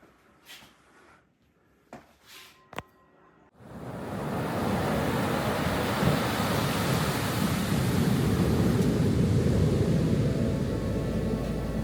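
Ocean surf rolling in near a seaside boardwalk, a steady close broadband roar that starts abruptly after a few faint knocks and handling clicks, then continues unbroken.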